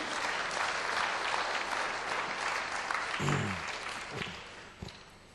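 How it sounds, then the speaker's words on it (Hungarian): Audience applause at a church talk, a steady wash of clapping from a crowd that continues for several seconds, fairly faint and distant, then thins out with a couple of sharp bumps near the end. "adjunk egy nagy tapsot azon"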